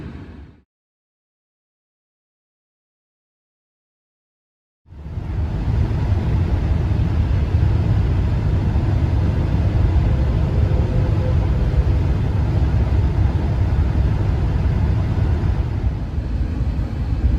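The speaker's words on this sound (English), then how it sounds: "So here we are driving the 2021 Honda Ridgeline Sport with the HPD edition." A 2021 Honda Ridgeline Sport HPD cruises down the road, giving a steady broadband wind and tire roar with low engine rumble, continuous and fairly loud after a brief silent gap near the start.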